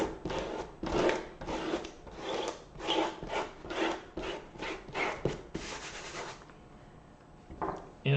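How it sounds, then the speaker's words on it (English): A pickup eraser rubbing masking fluid off watercolor paper on a Christmas card painting, heard as close, quiet rubbing strokes in quick bursts that thin out toward the end. "I'm going to take my pickup eraser, I'm going to lift off the masking fluid."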